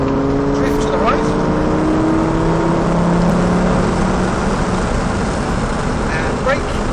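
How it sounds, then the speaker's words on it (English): A Lamborghini Gallardo accelerates at full power on a cone-marked driving course. The engine roars loudly and steadily, with its pitch climbing through the revs under heavy wind rush. "back on the power, and accelerate away from full power now"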